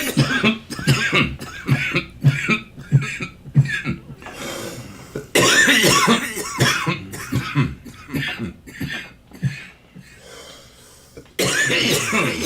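A person coughing repeatedly in loud, hacking bursts with throat clearing, close up in a live stream setting, with a few short pauses between fits.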